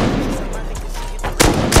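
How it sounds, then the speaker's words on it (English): Gunfire in the survival game Rust during a PvP counter-raid: two sharp, loud shots burst near the end after a stretch of muffled game ambience, with no voices over them. "they're shooting"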